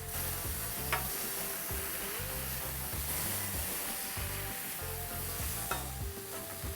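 Two slices of bacon, each cut in half, sizzle on a griddle for a cheeseburger with a dense, steady crackle throughout and a couple of sharp taps, and no voices.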